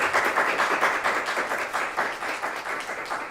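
Audience applause at a St. Louis event where a police chief is named Public Safety Director, a sustained crowd of many hands clapping in a dense, even patter with no talk over it.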